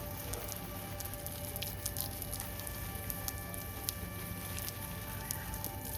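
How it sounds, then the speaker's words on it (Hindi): Potted plants being watered in the evening: soft, continuous pattering and splashing of water onto soil and leaves, fairly faint and steady with small drips and splats scattered through. "इसी समय पानी डाल रहा हूँ मैं।"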